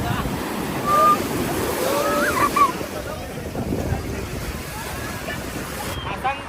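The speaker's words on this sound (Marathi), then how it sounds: "अथांग सागर हे समुद्र" Steady wash of sea waves and surf with wind buffeting the microphone, a few faint bird-like chirps above the roar.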